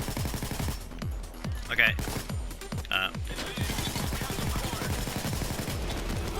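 Rapid automatic gunfire in the heist game Payday 2, a fast regular stream of shots with short pauses, close and loud, with a brief spoken word over it.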